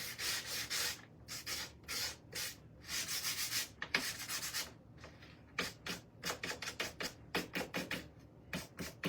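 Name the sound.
sanding the edges of a beaded frame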